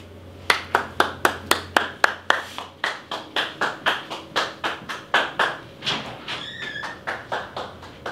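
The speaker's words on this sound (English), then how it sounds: "Now we clap our hands while we go out." A single person claps their hands in a steady, even rhythm, about a dozen and a half sharp claps close by, with a brief high whine near the end.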